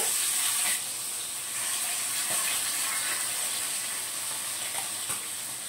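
Steady hiss of oil sizzling in a pan, continuous and fairly faint, with a few small pops and spatters scattered through, as kakila (sea garfish) fry.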